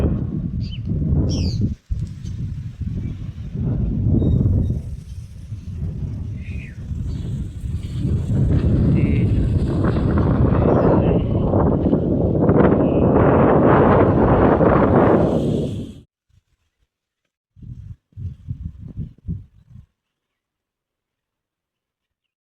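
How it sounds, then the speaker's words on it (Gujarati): Strong wind over an open farm field buffets the microphone in a loud, continuous roar for about fifteen seconds, then cuts out, followed by a brief, weaker gust. "પવન ફૂલ છે"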